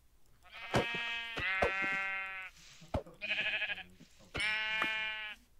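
Minecraft sheep bleat in several loud, close, wavering calls with short pauses between them, and no talk over them.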